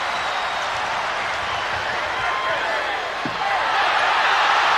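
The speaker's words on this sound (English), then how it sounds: "Crowd reacting." A basketball arena crowd roars in a steady, dense wash of noise during a 1991 playoff game between the Warriors and the Spurs, loud and sustained throughout with a slight swell toward the end.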